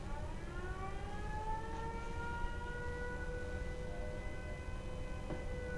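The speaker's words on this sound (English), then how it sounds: "Now I will trigger the siren." A settlement siren in Fallout 4 wails with several rising and slowly sliding tones over a constant low rumble, steady and sustained throughout.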